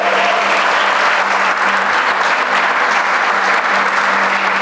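Church congregation breaking into loud, sustained applause during a sermon, a dense unbroken wash of clapping that fills the whole stretch with no talk over it.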